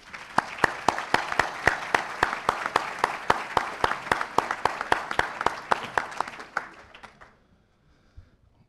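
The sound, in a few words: applause from conference audience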